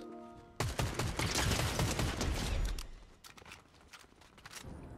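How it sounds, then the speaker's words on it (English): Dense burst of rapid gunfire during a Fortnite match, loud and continuous for about two seconds, then scattered lighter shots and footsteps-like clatter trailing off. "Is somebody else shooting at me?"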